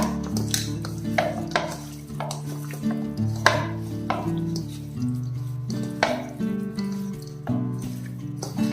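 Raw chicken is worked by hand with salt and spices for a chicken fry, making close, wet squelching pats and slaps in an uneven rhythm over a steady tonal background.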